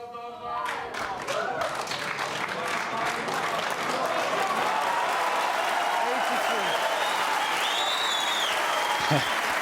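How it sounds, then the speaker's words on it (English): A crowd at the 2013 World Snooker Championship final applauds Ronnie O'Sullivan, sustained loud clapping that swells and holds for nearly ten seconds while a commentator talks over it. "His son leading the applause."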